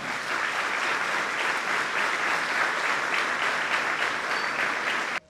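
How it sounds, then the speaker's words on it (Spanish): Steady, dense applause from an audience at a club celebration honoring its champions, loud and continuous for about five seconds before cutting off abruptly, with no talking over it. "lo despedimos con un sincero aplauso"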